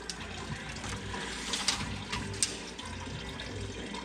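Coolant drains from a large truck radiator, about 34 by 31 inches, pulled from a Ford 5.4L 3V gas engine, as a steady close trickle and splash of liquid runs throughout with no talking.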